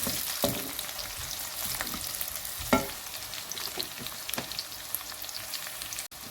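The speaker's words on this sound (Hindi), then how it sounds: "ज़ीरा डालना है इसमें, वो भी 1 चम्मच हम ज़ीरा डालेंगे। इसको अच्छी तरह से भून लेना है।" Quiet, steady sizzling of a spoonful of cumin seeds frying in a pan, with occasional soft pops and stirring scrapes.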